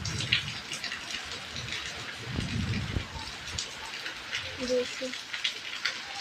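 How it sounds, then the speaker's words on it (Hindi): Heavy rain pours down outdoors onto leaves and surfaces, a dense, steady hiss with patters, while a person speaks briefly over it. "इतनी खूबसूरत बारिश है"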